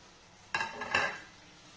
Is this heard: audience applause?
no